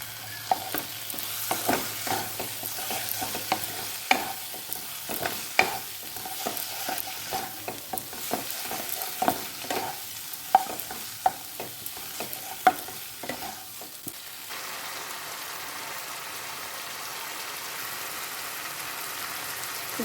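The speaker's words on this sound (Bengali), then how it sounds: "দেখুন, মশলাটাকে প্রায় 5 থেকে 7 মিনিট ধরে আমি কষাচ্ছি।" Potatoes sauté in spice paste for a Bengali duck egg curry, stirred in the pan with scraping strokes and clicks over a soft sizzle that settles into a steady hiss near the end.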